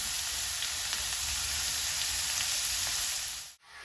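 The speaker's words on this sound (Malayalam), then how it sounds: "ഞാൻ സവാള മാത്രമേ ഇടുന്നുള്ളൂ ഇനി ഇത് നല്ലോണം ഒന്ന് വാടി വരണം" Sliced onions with salt sauté in a pan, a loud, continuous close-up sizzle with faint ticks, which cuts off abruptly near the end, with no voices.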